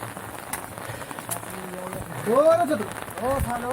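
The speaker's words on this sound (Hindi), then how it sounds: "और बरसात।" Rain falls steadily during a Garhwali wedding in the hills, a constant hiss of drops on surfaces beneath people talking nearby.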